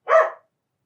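An old female dog lets out a single short bark from nearby, loud and clear against silence.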